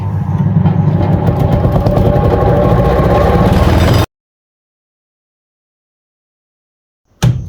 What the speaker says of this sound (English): It's really not the best lathe machine in the world